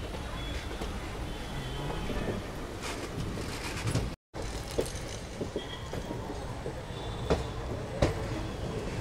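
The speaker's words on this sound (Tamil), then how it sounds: "நம்மளோட ட்ரெயின் வந்து ஆன் டைமில் நம்ம பிளாட்ஃபார்ம் 3 வந்து உள்ளே கொண்டு போயிட்டுருக்கு." The Sapthagiri Express rolls into Tirupati station on platform 3, a steady rumbling wash of wheels and carriage noise with occasional clanks, continuous and fairly loud apart from a brief dropout.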